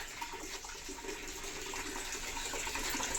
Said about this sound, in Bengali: দেখো এদিকে জল ভরছে